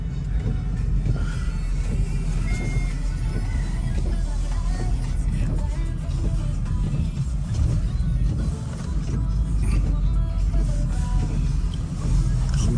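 A car is backed up onto a transport trailer for shipping a 2008 Mercedes SL55 AMG, its engine running in a low steady rumble close by with faint outdoor noise and no clear talk.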